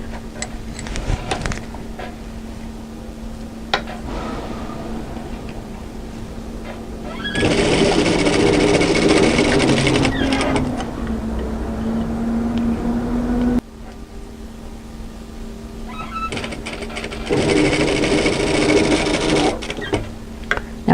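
A sewing machine stitches the underarm seam of a camisole in two sustained runs, each a steady motorised whir lasting several seconds, separated by quieter pauses with faint handling clicks.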